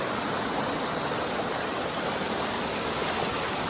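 Water rushes steadily down a waterfall near the Mahakali temple at Saravana, a dense, loud, unbroken roar close by with no voices over it.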